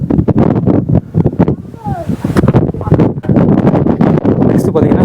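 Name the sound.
wind blowing while trekking up Sigiriya rock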